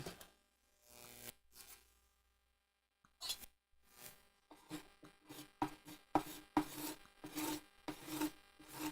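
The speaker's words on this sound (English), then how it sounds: "Well, card scraper gets it off." A card scraper scrapes dried glue off a piece of wood, with short rasping strokes close up, sparse at first and then quickening into a rapid, uneven series of scrapes.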